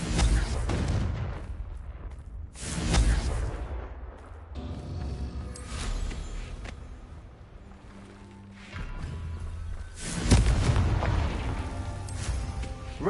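Confringo blasting spells go off in Hogwarts Legacy, a string of loud booming explosions in separate bursts, with heavy blasts near the start, around the three-second mark and again near ten seconds, and rumbling debris between them.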